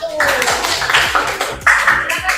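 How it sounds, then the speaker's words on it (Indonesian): Applause for a student group in a classroom coaching session: brief, close clapping from several people, mixed with a voice talking over it. "Silakan beri tepuk tangan untuk kelompok 1."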